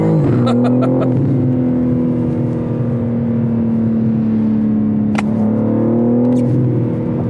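A 2023 BMW M3 Touring G81 accelerates hard, its engine giving a loud, sustained droning growl that rises steadily from inside the car, with a few brief clicks and shifts.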